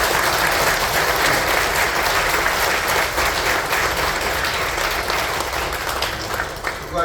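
A church congregation applauding during a Korean installation ceremony, dense sustained clapping from many hands that fills the room, then thins and fades slightly near the end.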